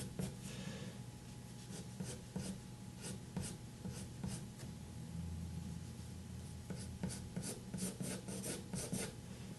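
A pencil drawing lines on paper, scratching and rasping in steady repeated strokes with brief pauses between them, close and fairly quiet.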